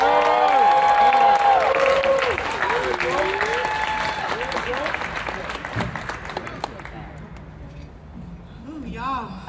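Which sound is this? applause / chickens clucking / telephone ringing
applause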